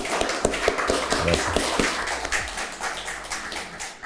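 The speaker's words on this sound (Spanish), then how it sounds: "para quien pido un aplauso" Audience clapping at a Chilean film talk show honoring actor Hugo Medina, a dense patter of hands running steadily throughout, with a brief voice heard over it.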